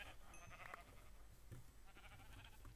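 Sheep bleating in the Minecraft video game, a couple of short wavering bleats over a low continuous background hum, fairly faint, with no talk.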